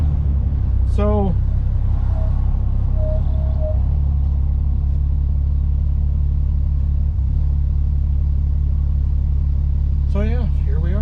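Steady low engine rumble from inside a 1965 AMC Rambler American 440 while cruising and stopping at a red light, a constant drone under someone talking at the start and end.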